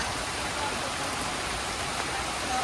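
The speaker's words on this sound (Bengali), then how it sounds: "তো এই যে বৃষ্টি নামতে আছে," Village rain falls steadily in a dense, even hiss at close range, unbroken and fairly loud throughout, with no other sounds standing out.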